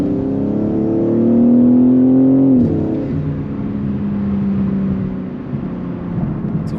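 A modified 500 hp BMW G80 M3 driving, a deep engine drone that rises in pitch, peaks, then drops sharply as revs fall, settling into a steady lower cruising hum with road noise.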